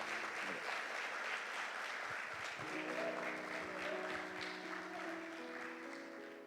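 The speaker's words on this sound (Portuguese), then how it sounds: "eu gostaria que vocês dessem uma salva de palmas a toda essa organização que foi feita até agora" Quiet audience clapping rises in a church youth congress hall, and sustained music tones from a keyboard or band enter partway through and carry on beneath the applause.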